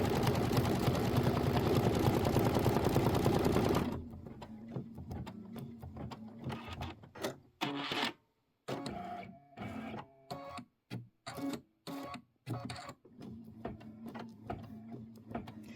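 An embroidery machine stitches one step of a Kimberbell Thanksgiving pillow design. A dense, steady buzzing runs for about four seconds, then gives way to quieter, intermittent stitching bursts separated by brief pauses. No voices are heard.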